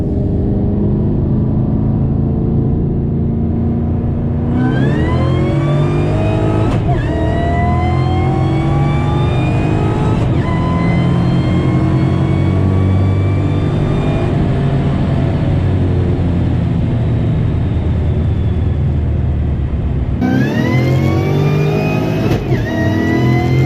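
Ford GT500 accelerating hard on a Dragy test pull: a loud, close engine climbs steeply in pitch through several gears, with brief dips at each shift, then revs up again near the end.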